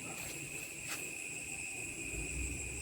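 Crickets trill steadily at night around 1:30 am under threatening rain and lightning, with high, even insect tones running unbroken throughout the clip and frog calls faint or low in the background.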